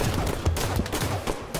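Rapid bursts of gunfire from a Halo 5 multiplayer match crackle in quick succession, a dense and fairly loud fusillade of clattering shots with no talk over it.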